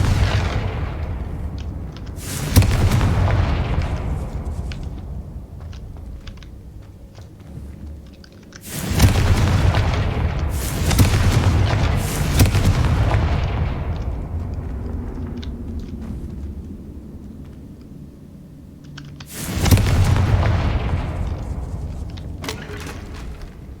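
Loud, booming Confringo spell blasts go off in the Hogwarts Legacy video game. Three big explosive bursts hit at spaced intervals, and each one fades slowly into a rumbling tail.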